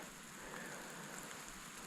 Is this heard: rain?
yes